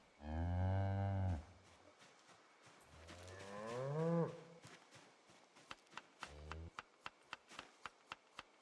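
Cattle in Project Zomboid give loud, drawn-out moos, three separate calls in a row, followed by a regular series of footsteps.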